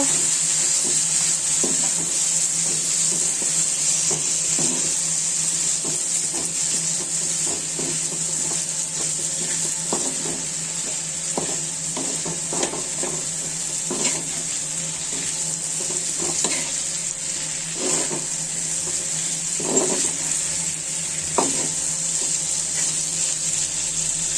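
Taki fish frying in oil with coriander leaves gives a steady bright sizzle while a utensil stirs it, with soft irregular scrapes and taps in the pan throughout, close and without speech.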